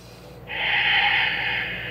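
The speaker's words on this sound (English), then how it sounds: "Breathing in and out through the nose." A single slow, audible breath drawn through the nose during a calm prenatal yoga stretch, a soft airy hiss that swells and holds, close to the mic, over a low background hum.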